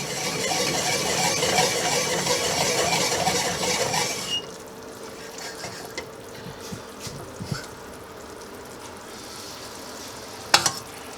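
Sauce with salt added sizzles and bubbles in a hot pan for about four seconds before dropping to a quieter simmer with occasional soft clicks and a brief sharp knock near the end.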